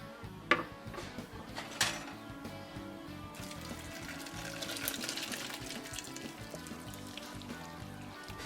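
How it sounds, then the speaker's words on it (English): Boiled potatoes for a Sunday pot roast being tipped into a colander, a couple of knocks followed by a steady rushing pour and trickle of draining water, close and moderate. "I want to go ahead and get them over here to drain in my little colander here"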